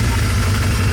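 A Kawasaki Z1 motorcycle engine idles steadily and loudly, up close, with a constant low rumble and no throttle changes or talking.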